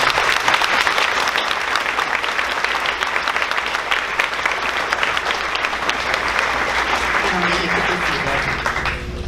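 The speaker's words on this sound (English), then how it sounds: "could we please give her a round of applause?" Steady applause from an audience at a sixth grade graduation ceremony, honoring a student's award, with dense continuous clapping throughout and a faint murmur of voices underneath.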